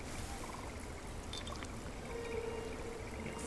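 Water poured steadily into a container to make dirty water in RuneScape: Dragonwilds, a continuous splashing stream heard alone at an even level throughout.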